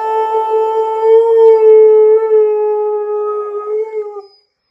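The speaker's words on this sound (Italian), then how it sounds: "Io non posso ululare come Anakin" A dog howls in one long, loud, steady wail that holds its pitch before trailing off and stopping, with no other sounds around it.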